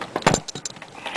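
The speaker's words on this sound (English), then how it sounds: "And I remove the ratchet." A ratchet is pulled off a socket extension on the rear wheel of a Honda Elite 80 CH80 scooter, giving a few quick, close metallic clinks and jingles.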